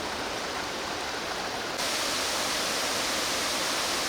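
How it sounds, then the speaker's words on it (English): Heavy rushing roar of a waterfall in full flow at the end of the rainy season near Ba Be lake in Vietnam, a dense, constant broadband wash with no pauses. "one of the lower levels of the waterfall. Plenty of water flowing there, as you can see."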